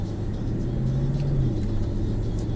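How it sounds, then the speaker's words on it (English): A Mercedes-Benz SLS AMG's V8 engine rumbles steadily while driving slowly down an access road at Mercedes-Benz World, Brooklands, a low, even drone heard from inside the car. "This is a V8 engine."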